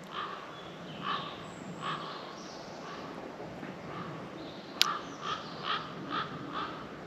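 A wild bird calls in the woods, not a crow, giving a series of faint, distant repeated calls over quiet outdoor ambience, with one sharp click partway through.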